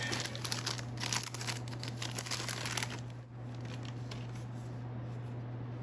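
Thin plastic wrap crinkles and rustles close up as Nintendo Switch 2 Joy-Cons are pulled free, busy for about three seconds, then fading to quieter handling over a steady low hum.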